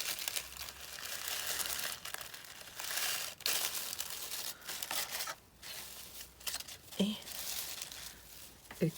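Close, crinkly rustling and crumpling as paper strips are pulled off a gift package, with irregular bursts of crackle over a low background.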